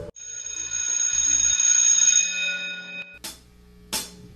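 A bell sound effect marks the end of a class: one sustained ringing chime that fades over a few seconds, followed by two short, bright dings.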